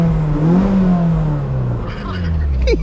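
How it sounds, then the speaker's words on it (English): An engine hums from a lowered Mazda Miata, a steady low drone that swells slightly as it revs, close and fairly loud, with a brief higher whine near the end. "listen to the Miata"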